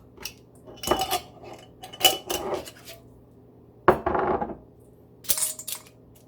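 A spoon scrapes and clinks against a container while tablespoons of dried sarsaparilla herb are scooped, giving several separate clattering bursts with short pauses between them.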